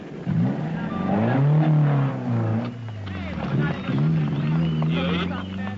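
A Datsun rally car, number 1, pulls away from the Safari Rally start at the Kenyatta Conference Centre, its engine revving and rising in pitch under steady narration from a commentator.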